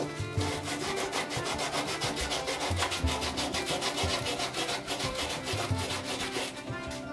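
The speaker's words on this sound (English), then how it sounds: "The reason I sand it and file it and then sand it again," Close, steady back-and-forth rasping as wood filler on a broken tote for a Stanley Bailey No. 4 plane is sanded and filed, a continuous gritty rubbing rhythm with no talking.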